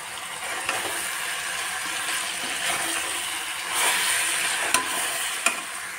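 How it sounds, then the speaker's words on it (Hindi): Boiled noodles stir-fried in a pan for chowmein: a steady, loud sizzle with close scraping and stirring, marked by a few sharp clacks of the utensil against the pan. "और लास्ट में मैं बॉईल किया हुआ नूडल्स ऐड करूंगी।"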